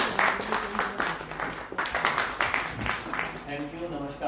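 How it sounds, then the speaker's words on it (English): Audience at a women's empowerment event claps as a guest is called on stage, scattered, rhythmic hand claps with a voice speaking over them toward the end. "Please give me a big round of applause."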